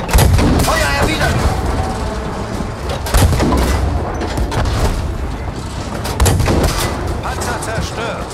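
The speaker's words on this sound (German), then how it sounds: "Feuer erwidert!" Loud, dense gunfire and booming artillery from a World War II battle in the video game Battlefield 5, with repeated heavy blasts around the 3- and 6-second marks over continuous combat noise and faint voices.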